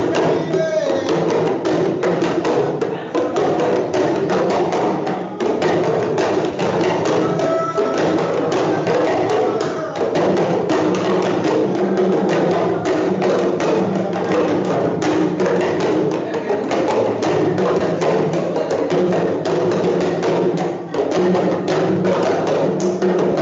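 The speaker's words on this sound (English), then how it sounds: "So this is the sound of the Tudi" A Tudi, a traditional musical instrument, played during a workshop and captured as a field recording: a dense, continuous, loud texture with steady rapid striking beats running throughout.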